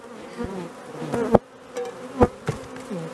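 Honey bees at an open beehive make a near, wavering buzz, broken by a few sharp knocks and clunks as the hive is handled during a powdered sugar varroa mite treatment.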